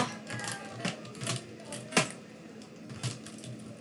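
Keys clack on a nearby keyboard in irregular bursts, several distinct sharp taps with one louder strike, over a low background hum and no talking.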